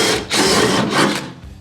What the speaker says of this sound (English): So what I'm doing is just drilling out each side